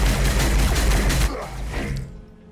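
Supporting gunfire in a Warhammer 40,000 tabletop-style video game battle between Astra Militarum and T'au forces, a dense burst of rapid shots and booms for over a second, then a quieter tail of fading rumble.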